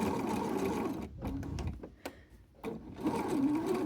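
A sewing machine stitches a seam down the middle of quilt fabric, a close, rapid mechanical whirring that pauses briefly in the middle with a few clicks, then resumes steadily.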